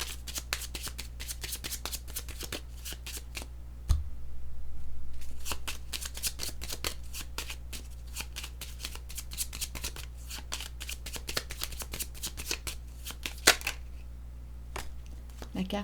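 A deck of tarot cards being shuffled by hand: continuous crisp riffling and flicking, close and clear, in steady repeated bursts with a brief pause, over a faint low hum.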